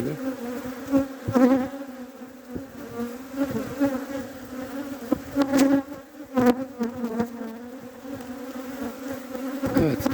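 A spring hive inspection of honeybees in Adana, with a dense, steady buzz from many bees close by. Louder passes from single bees and occasional clicks of hive frames break up the drone.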